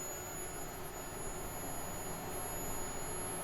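An AXYZ CNC router spindle warms up with no bit fitted, giving a steady high-pitched whine over a broad, even whir. The tone holds faint and continuous throughout, with no voices.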